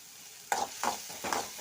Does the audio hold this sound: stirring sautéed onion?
yes